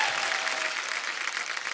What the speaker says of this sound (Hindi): एक बार अमित जी के लिए जोरदार तालियां हो जाए